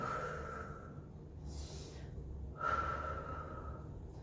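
A person exhales during a floor exercise with a stick in a total-body gym workout, giving soft, close breaths with a brief breathy rush in the middle and another at the end.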